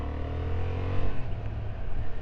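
A 2025 Honda Hornet 750 motorcycle engine drones steadily at close range, low and full, with a slight swell in revs partway through.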